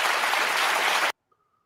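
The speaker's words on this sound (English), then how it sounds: "What are they clapping for?" An audience bursting into clapping, a dense, loud wash of applause from many hands that cuts off abruptly after about a second, leaving near silence.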